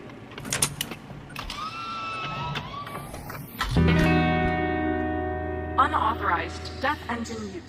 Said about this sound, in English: the purring of a combination lock mechanism